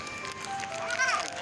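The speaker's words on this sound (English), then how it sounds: "I just stopped the ice cream truck" An ice cream truck's tinkling jingle plays at moderate distance, with a thin melodic chime rising near the end over street ambience and faint voices of a child and adult nearby.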